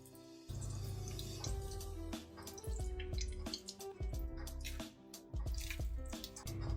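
Liquid drips and trickles as something is slowly squeezed by hand to extract its juice, with a close wet patter of drops over a constant background hum.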